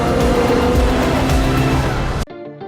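A Formula One race car speeds down a track with a loud, sustained engine roar at close range. After about two seconds the roar cuts off abruptly. Soft, tonal music follows.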